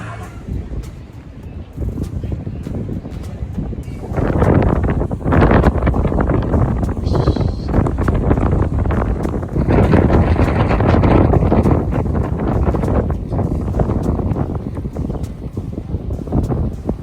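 Fierce wind on Benidorm beach roars as it buffets the microphone in loud gusts that rise and fall, with a faint hint of voices underneath.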